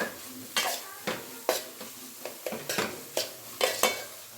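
Chili powder fries with tomato and onion in a pan for a masala okra curry, a soft sizzle under a series of sharp spatula scrapes and taps against the metal, roughly every half second.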